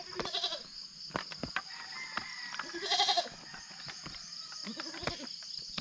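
Goats bleat repeatedly and close by as they are moved to a new pen area on a farm, several wavering calls scattered among rustling and light clatter.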